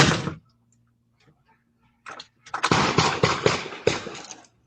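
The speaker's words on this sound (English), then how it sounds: "A doorbell camera captured part of the gunfire." Several sharp gunshot cracks ring out, one sharp shot followed after a pause by a rapid cluster of bangs, captured by a doorbell camera from a distance with a low hum beneath.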